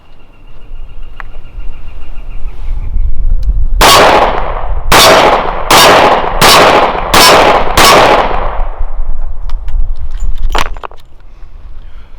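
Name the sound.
Colt Cobra revolver firing +P jacketed hollow point rounds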